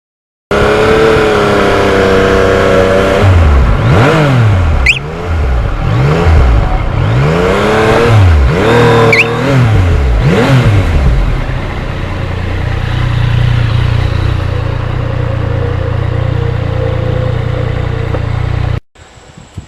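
Engine of a 2020 Yamaha MT-09 motorcycle while riding on a clear day, loud and close, rising and falling through repeated revs and gear changes, then settling into a steady cruising drone before cutting off abruptly.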